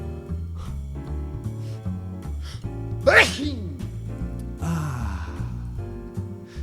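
A single person's sneeze bursts out loud and close over steady background music, with a sharp intake and explosive release near the middle, followed by a brief breathy sigh.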